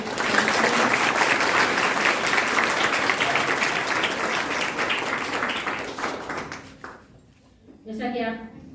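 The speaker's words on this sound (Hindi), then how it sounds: "तालियों के साथ बच्चे आप सभी" Schoolchildren applaud to welcome visiting guests in a school courtyard, a dense, steady wash of clapping that runs several seconds before fading, followed by a short voice.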